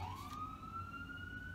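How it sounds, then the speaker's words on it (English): A rising and falling emergency siren, likely a police car, wails steadily at moderate distance, heard alone without speech over low rumbling street background. "Sirens."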